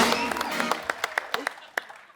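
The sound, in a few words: studio audience applause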